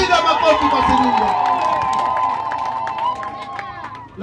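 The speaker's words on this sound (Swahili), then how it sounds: "Piga makofi kwa Sirinde." Crowd at an outdoor political rally in Chiwezi ward claps and cheers loudly and continuously, a dense roar of voices and hands filling the space, fading slightly toward the end.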